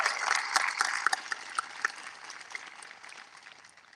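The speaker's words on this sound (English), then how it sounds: "Everyone, please give them a round of applause." A graduation ceremony crowd gives a round of applause at a high school commencement, a dense patter of many hands clapping that gradually thins and fades over a few seconds.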